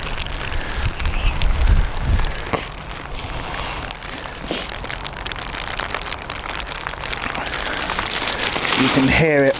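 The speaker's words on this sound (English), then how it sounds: "heavy rain coming in." Heavy rain beating down at Edinburgh Airport, a dense steady hiss with occasional louder gusts and rumbles, swelling toward the end, with voices talking faintly underneath.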